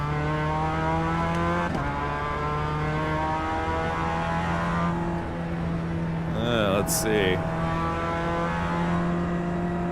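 A race car engine in the racing game iRacing drones at high revs with steady harmonic whine, briefly shifting pitch, while a voice speaks a couple of words over it.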